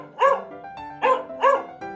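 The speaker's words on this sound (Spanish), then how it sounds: "¡Una perrita!" Three sharp, close barks from a small, heavily pregnant female dog, evenly spaced with a higher yip at the end, clear and alone without talk.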